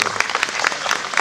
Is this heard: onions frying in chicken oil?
no